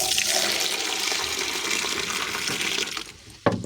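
A continuous broadband rush of water poured for rabbits runs steadily for about three seconds, then drops off, followed by a brief clunk near the end.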